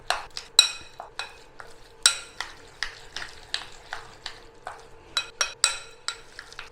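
A spoon stirs chicken tikka marinade in a bowl, giving a steady run of sharp, close clinks and scrapes against the bowl, about two or three per second, with no voices.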